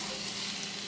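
Spinach sautés on a Ninja Foodi XL grill with a continuous, even hiss of frying. The sound is close and steady throughout, with no voices.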